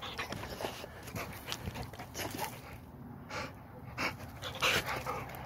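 A pet dog pants quickly and steadily close to the microphone, its rhythmic breaths continuing for several seconds with faint background noise.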